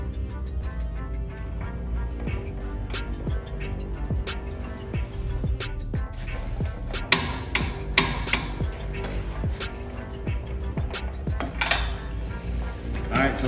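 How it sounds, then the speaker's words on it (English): A torque wrench tightening a suspension bolt to 85 foot-pounds on a 2019 car fitted with lowering springs gives sharp metallic clicks and clunks at intervals over a steady background hum, close by and distinct. "lean on this torque wrench until it clicks"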